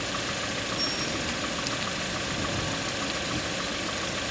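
A 2014–2019 Toyota Corolla idles after an oil and filter change. The engine gives a steady, even hum with a low rumble, heard up close with no talking.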